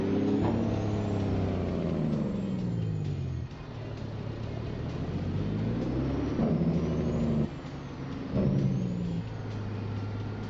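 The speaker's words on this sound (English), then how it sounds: "I love how this truck sounds." A big truck in American Truck Simulator drones and rumbles through gear changes. Its engine pitch rises and falls several times, with air-brake hisses between, loud and continuous and with no talk over it.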